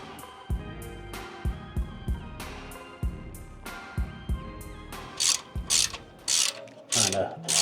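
A ratchet with a 1/2-inch socket tightens a V-band clamp on a downpipe install on an MK7 GLI, clicking in short, evenly spaced bursts of pawl ticks, close and clear, with louder metallic rattling toward the end.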